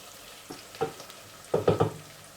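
Onion and rabbit meat frying in a pan, heard as a few close scraping stirs and short sizzling bursts, one at first, then a quick cluster of three, with no voices.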